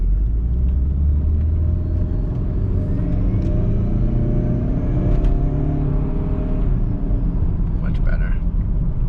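A 2004 Saab 9-5 Aero with about 280,000 miles pulls hard under full boost, its engine a steady, loud rumble and whir heard from inside the car.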